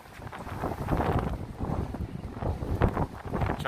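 Cold May wind gusts off the Hudson River by the High Line in New York City, buffeting the microphone in a continuous, rumbling roar that swells and eases.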